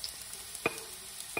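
Onion and garlic frying in a pan are stirred, a faint soft sizzle with a few quick scraping clicks of the utensil against the pan.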